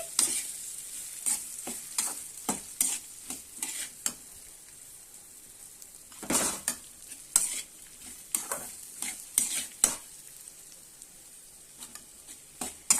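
Okra pieces being stirred and mixed in a frying pan for okra fry: repeated scraping and clattering strokes in an uneven rhythm over a low, steady sizzle, close and fairly loud throughout.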